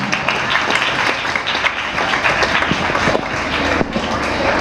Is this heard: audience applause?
yes